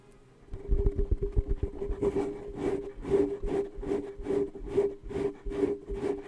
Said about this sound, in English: You like the sound of my fingers rubbing across my microphone.